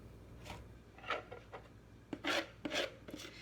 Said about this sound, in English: You want to scrape the bowl all the way through so you make sure you get all the ingredients.